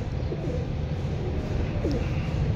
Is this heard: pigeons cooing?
yes